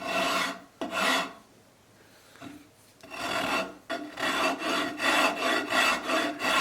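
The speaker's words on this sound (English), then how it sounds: "I'm using the really rough rasp." A really rough rasp shapes the curve of a clamped wooden acoustic guitar body, making loud, close, coarse scraping strokes: two quick strokes, a pause, then a run of steady, rhythmic back-and-forth filing.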